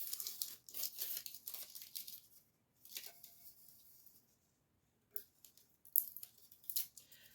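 Sublimation wrap being peeled off a tumbler in short crinkly tearing bursts separated by silent pauses, quiet and close.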